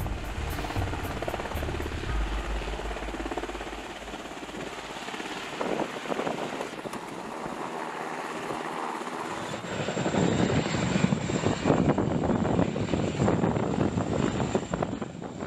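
A military helicopter hovers low over water, its rotor thudding in a steady loud chop alongside a constant turbine whine, with the wash growing rougher and stronger partway through.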